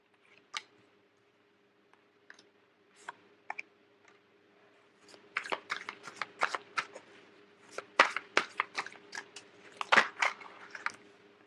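Tarot cards being shuffled and handled, giving a run of crisp, close riffling clicks and snaps that start sparse and grow into dense bursts.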